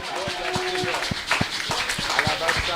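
Church congregation applauding during an evening worship service, a run of evenly spaced claps heard under ongoing speech and singing-like voices in the hall.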